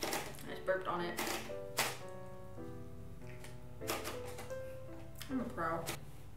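Olivetti typewriter keys strike in quick uneven bursts, close and crisp, with pauses between runs of typing while people talk over it.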